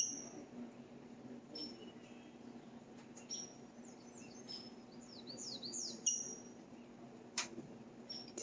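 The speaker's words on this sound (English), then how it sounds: "Do you see the hummingbird?" A young hummingbird in a garden gives faint, high, squeaky chirps in short scattered bursts over a low steady background hum, with no talking.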